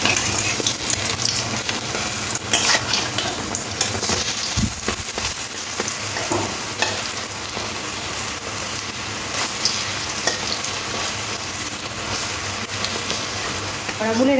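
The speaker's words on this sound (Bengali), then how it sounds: "বড়াগুলো এরকম লাল লাল করে ভেজে নিতে হবে।" Red lentil fritters deep-frying in oil in a kadai until reddish-brown: a loud, dense, continuous sizzle with bubbly crackling, like rain on a surface, holds for the whole stretch with no talk.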